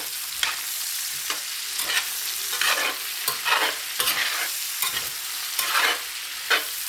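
Garlic cloves stirred in a big iron pan for a breakfast skillet: close, rhythmic scraping strokes of a utensil over a bright crackling sizzle, repeating every second or so with no voices.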